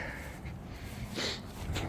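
A person sniffing and snorting through the nose outdoors while walking around a garden, a couple of short close breathy sniffs over faint background.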